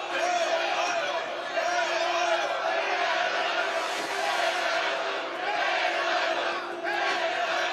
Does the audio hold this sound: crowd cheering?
yes